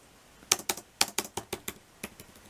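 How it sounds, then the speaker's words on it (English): Keys on an HP 17-by4013dx laptop keyboard being pressed in a quick irregular run of about a dozen crisp, close clicks, with no voice over them. "the keyboard makes a nice sound when you touch the keys"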